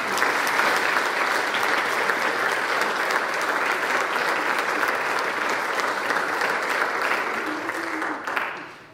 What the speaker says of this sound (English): So please let's give them one more round of applause.